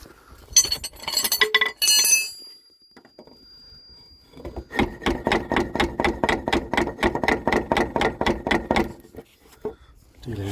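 Repeated metallic smacks on the fuel pump of a JDM Datsun, tapped on its bracket while the engine runs: a steady train of about sixteen sharp, evenly spaced knocks, close and loud, after a few earlier clanks.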